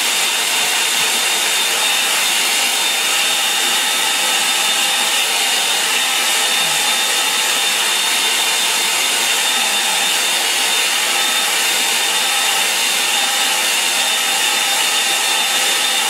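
A hair dryer blows steadily over a wet watercolour painting of lake reflections, a loud, close, unbroken whooshing roar with a faint high whine that runs alone for the whole stretch.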